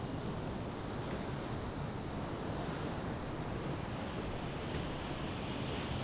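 Whitewater rapids roar steadily on the Selway River at high water, a dense unbroken rush of water mixed with wind buffeting the microphone, with no voices.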